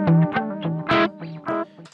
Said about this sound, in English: I have my tape delay.